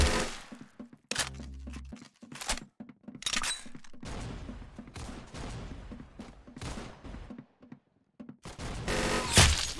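Gunfire in the Roblox shooter Arsenal: repeated sharp shots in irregular bursts and single cracks across the clip, with a louder, denser burst at the end.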